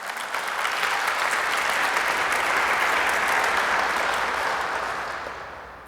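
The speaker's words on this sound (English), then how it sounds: "let's give her another round of applause" A room full of people applauding steadily at an awards presentation, a thick wash of clapping that swells and then tapers off toward the end.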